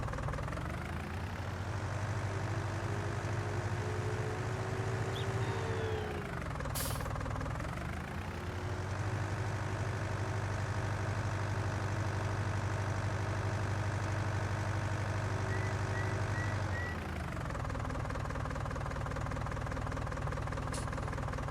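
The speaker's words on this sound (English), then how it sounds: "Let's take a listen to the engine." Idling truck engine in Farming Simulator 19, a steady low diesel rumble that runs continuously, dips briefly around the middle and again near the end, with no talk over it.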